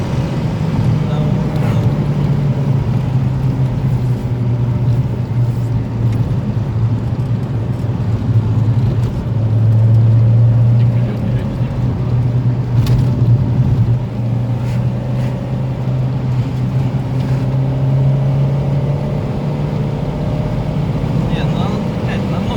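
A chip-tuned VAZ-2110 running Ledokol January 7.2 firmware drives along with a steady low engine drone and road hum from inside the cabin, swelling slightly now and then.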